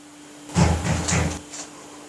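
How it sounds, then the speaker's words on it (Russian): A few dull wooden knocks or thumps, close and fairly loud, in a quiet room with a steady low hum. "Кто-то стучит."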